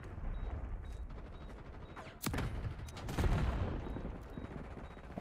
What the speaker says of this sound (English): Breaking out rocket launcher.